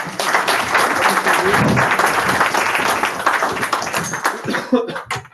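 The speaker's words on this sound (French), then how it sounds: "On peut les applaudir encore." Conference audience applauding two speakers, a full, sustained round of clapping from many hands that stays strong and then thins toward the end, with some murmuring and a chuckle under it.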